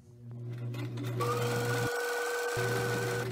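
A sewing machine stitches a fabric face mask, a steady close whir that briefly stops as the needle stays down to turn the fabric, then resumes.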